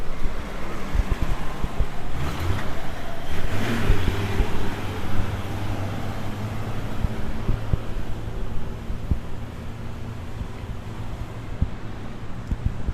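Steady low vehicle rumble on a street in Malaysia, close and continuous for the whole stretch, with wind buffeting the microphone over it and no voices.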